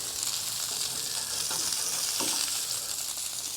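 Four beef patties browning in a hot pan give a steady, even sizzle and crackle, moderately quiet and close, with faint scraping clicks and no voices over it.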